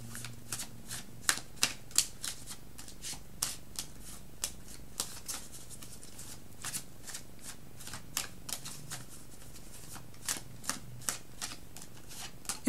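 Tarot cards are shuffled by hand in repeated quick riffling bursts with crisp papery snaps, close and clear, spread over a quiet room.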